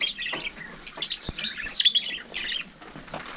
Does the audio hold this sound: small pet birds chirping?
yes